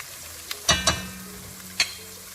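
Whole spices, cinnamon sticks and cumin, being stirred in a hot pot for beef nihari, giving a few sharp clinks and scrapes of the spoon against the pot over a quiet sizzle.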